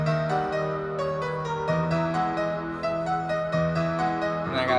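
A stock acoustic piano plays a looping chord pattern over a soft sustained synth pad in Studio One, steady and moderately loud with no voices.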